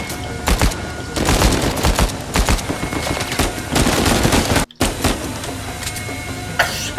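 Dense, loud gunfire from the Uncharted 4 action game rattles almost nonstop in rapid overlapping volleys. A brief silent gap cuts in before the shooting resumes, with no voices heard.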